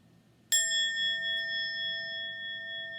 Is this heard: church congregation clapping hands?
no